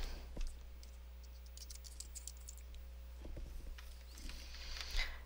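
Keys tapped on a Mac computer keyboard during Excel 2011 data entry: a brief cluster of soft, close clicks, sparse at first and then bunched together, heard alone over a faint steady hum.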